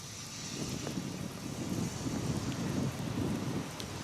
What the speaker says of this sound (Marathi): मुंबईत सध्या पहाटेपासूनच आहे तो पाऊस जोरदार बॅटिंग पावसाची सुरू आहे